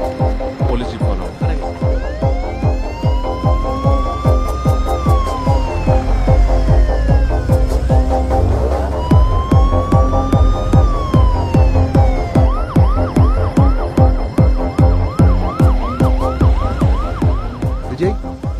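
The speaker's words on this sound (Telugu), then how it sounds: "Police jeep follow." A police jeep's wailing siren rises and falls in long sweeping cycles, loud and close, over a dense backdrop of rhythmic music or pounding movie score.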